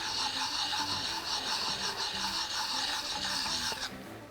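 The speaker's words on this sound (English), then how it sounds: "you take your chisel and you run it across the deburring plate like this" Steel chisel rubbed back and forth across a deburring plate while sharpening, a steady close rasping scrape with rhythmic strokes that runs throughout and stops abruptly near the end.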